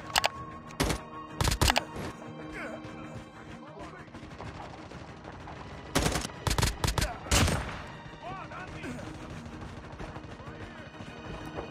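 Bursts of AGR 566 rifle gunfire in the COD Mobile battle royale game, several loud rapid volleys clustered near the start and again midway, over a steady background of game ambience.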